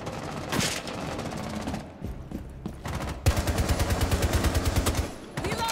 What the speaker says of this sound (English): they're all shooting at each other